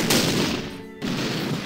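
Gunfire in the Battle Academy game set during the 1940 invasion of France, a dense, loud burst of rattling shots that dips briefly near the middle and then resumes.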